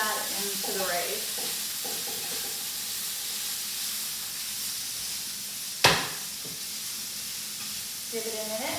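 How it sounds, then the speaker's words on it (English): Kimchi fried rice sizzling and hissing in a hot pan as ingredients are tossed in and stirred, a steady frying crackle with a sharp clatter midway and scraping stir sounds. "we're just going to toss all that into the rice"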